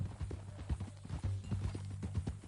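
Horse hooves in the video game Red Dead Redemption 2, a quick, even clip-clop of steps at a trot, close and moderately loud with a low hum underneath.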